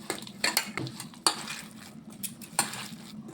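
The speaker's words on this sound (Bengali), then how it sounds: "এই যে ভালো করে আমি হাত দিয়ে একদম সবগুলো মিশিয়ে নিচ্ছি" Hand-mixing carrot bhorta in a bowl gives a quiet series of light clinks and soft squishy stirring, irregular and close, with small taps against the dish.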